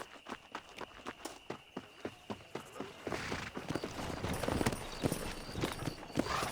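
Horse hooves clip-clop at a steady walking rhythm while riding in Red Dead Redemption, then quicken into a denser, louder run of hoofbeats over a rising rush of ground noise, close and clear with no talk.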